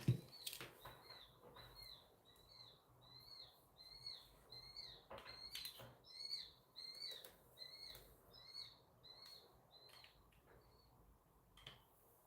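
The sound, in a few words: bird crying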